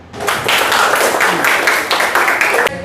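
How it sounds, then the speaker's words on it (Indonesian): A small classroom group claps together after a presentation, a close, brisk burst of hand claps lasting a few seconds and stopping abruptly. "Tepuk tangan untuk ini."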